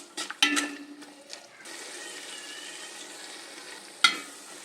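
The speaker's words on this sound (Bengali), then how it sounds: "নুনটা দিয়ে আরো মিনিট 3 সময় নিয়ে আমি এখানে সুন্দর করে কষিয়ে নিচ্ছি।" Spices and salt sautéing in a pan for an egg pulao, a soft steady sizzle with a few sharp clinks of stirring near the start and again near the end.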